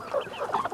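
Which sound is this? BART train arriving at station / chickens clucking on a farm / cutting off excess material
chickens clucking on a farm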